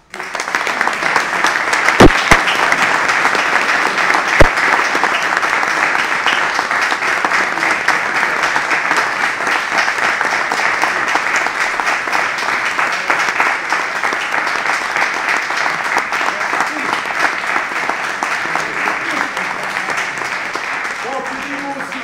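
A room full of people applauding M. Galazica at a school gathering, sustained clapping at an even, fairly loud level for over twenty seconds, with a couple of sharp knocks near the start and voices mixed in.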